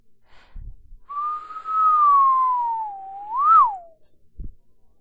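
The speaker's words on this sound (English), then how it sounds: "I'm gonna sit here and whistle." A person whistles a single long, clear tone that glides gently downward, then rises in a quick upturn before falling off, close and solo with faint thumps before and after.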